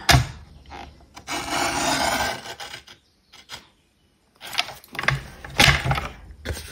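Blade or paper trimmer slicing panels for a fun fold paper card, heard as rasping, rubbing strokes in separate bursts with brief pauses between, close and fairly loud.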